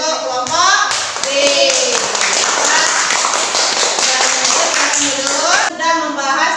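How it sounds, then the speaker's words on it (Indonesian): A classroom gives group B a round of applause: many hands clapping together in a dense, steady burst lasting several seconds, with children's voices and a teacher's talk around it. "Kita beri tepuk tangan untuk kelompok B."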